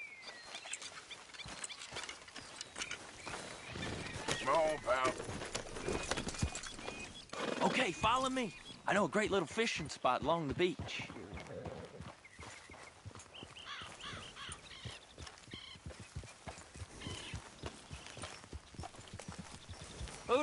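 Horse hooves clip-clop at a steady walking pace in Red Dead Redemption 2, a riding scene along a beach, with a voice talking over the hoofbeats and game music underneath.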